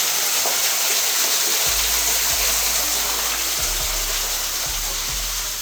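Water from a small waterfall in Sintra, Portugal rushes and splashes steadily, a broad continuous wash heard fairly close, with a faint low rumble and no talk.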